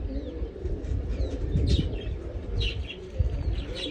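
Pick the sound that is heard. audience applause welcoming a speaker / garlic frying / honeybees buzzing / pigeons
pigeons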